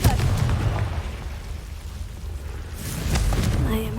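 Confringo blasting spell going off in Hogwarts Legacy, a booming explosive burst at the start with low rumble trailing off, then a second blast swelling near the end, no talk.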